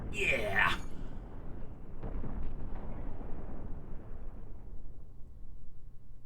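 Rockets fire and explode in the spaceship combat game Cosmoteer, a deep rumbling boom swelling and fading under a continuous low roar, with a brief voice heard near the start.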